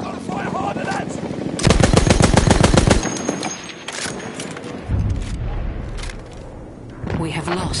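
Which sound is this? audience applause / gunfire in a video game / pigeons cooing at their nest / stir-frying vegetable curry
gunfire in a video game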